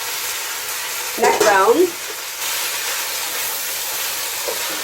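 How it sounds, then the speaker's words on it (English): Drained beans going into a hot pot of onions for ham and beans: a burst of loud sizzling with a crackling splash, settling back into a steady hiss, with someone speaking briefly over it. "grab those drained beans and add them right into the pot with the onions and the"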